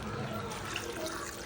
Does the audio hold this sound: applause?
no